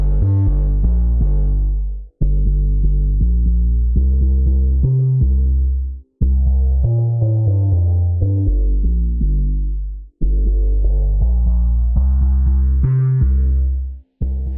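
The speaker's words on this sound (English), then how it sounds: "Notch Plus Low Pass, which is great for like sucking out the mids and retaining some of that high end as you low pass" Bass synth run through a notch plus low-pass filter, a series of loud sustained low notes with hollowed-out mids and sweeping tone, each phrase cut off sharply before the next begins.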